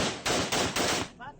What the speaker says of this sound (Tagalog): Salit-salitang pinaputok ng grupo ng kalalakihan ang M16 Armalite rifle sa liblib na lugar sa Arayat, Pampanga